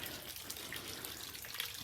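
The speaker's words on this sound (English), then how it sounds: "Oh, really beautiful water feature in the front." Front garden water feature beside a home trickling in a continuous soft wash of falling water, faint and steady throughout, with no voices.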